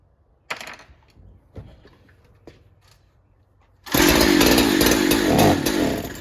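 A Husqvarna 372XP chainsaw fires up and runs loud and steady after a few quiet knocks and handling sounds, its engine roaring continuously for the last couple of seconds.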